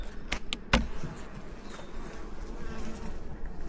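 Bees buzzing around beehive boxes, a soft continuous hum of many insects close by, with a few sharp knocks early on and no talking.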